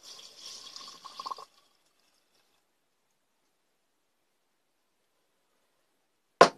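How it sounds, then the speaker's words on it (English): Denatured alcohol is poured into a jar for about a second and a half as a soft, close trickling splash, followed by long silence and a sharp knock near the end. "Pour it in."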